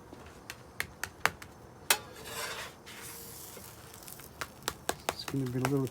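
A chicken quesadilla is flipped in a pan with a spatula: several sharp, close metal taps and scrapes over a steady background sizzle, with a brief louder hiss in the middle.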